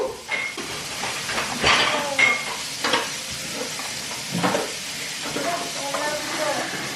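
Food stirred in a pot produces scraping and sizzling hisses in short irregular strokes, with quiet voices talking in the background.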